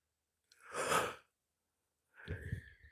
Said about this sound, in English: I am yawning, yawning, yawning.